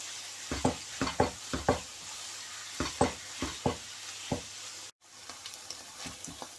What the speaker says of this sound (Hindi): अब हम इसको ऐसे चमचे के साथ मिक्स कर लेंगे ताकि लम्प्स ना बने।